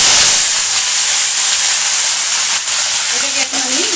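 Onions hitting hot oil already seasoned with cumin and bay leaf, a loud, dense, close sizzle that flares at once and hisses on steadily, with faint utensil clinks near the end.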